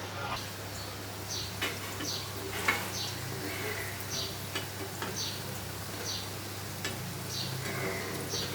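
Pousthik dal pakoda frying in hot oil, a faint, steady bubbling sizzle with light ticks and small pops, heard close but quiet.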